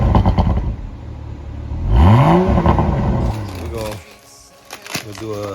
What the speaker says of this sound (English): My man's gonna start her up real quick. I'm gonna see what a stock 2022 Supra is.